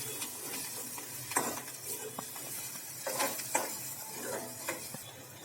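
Onions frying in a pan for kanda poha with curry leaves, a soft continuous sizzle broken by intermittent stirring scrapes and light clicks, fairly close and moderately quiet.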